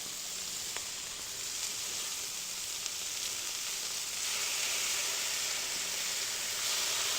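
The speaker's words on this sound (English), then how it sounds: "Now, we're gonna flip our burgers." Smashburgers sizzling on a Wolf griddle just after flipping, a dense, steady frying hiss up close that swells slightly louder partway through, with no talking.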